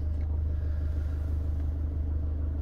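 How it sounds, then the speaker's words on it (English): A 2017 Chevrolet Colorado LT 4WD with a four-cylinder Duramax turbo diesel idles smoothly, a steady low rumble close by with no other sounds. "It runs beautifully with that nice four-cylinder Duramax turbo diesel."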